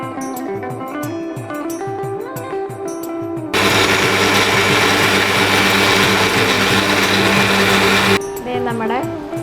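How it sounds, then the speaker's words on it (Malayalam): A kitchen blender grinds mango, jaggery and milk for Onam mango payasam, a loud steady whirring roar of about five seconds that starts abruptly and cuts off, with a voice talking before and after. "മാമ്പഴം, ശർക്കര, പിന്നെ കുറച്ച് പാലൊഴിച്ചിട്ട് ഇത്തിരി ആയിട്ട് അരച്ചെടുക്കാം"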